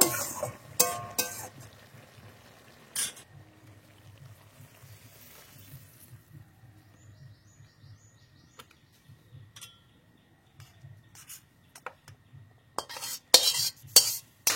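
A ladle scrapes and clinks against a cooking pot as cooked patol shak curry is served out, with intermittent metallic knocks at the start and end and quieter stirring sounds in between.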